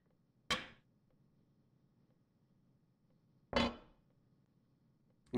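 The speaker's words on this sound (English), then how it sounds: "Drop my hammer." A hammer dropped in the VR woodworking game vrkshop hits the ground twice, three seconds apart. Each drop is a sharp, bright clank that rings briefly against a quiet background.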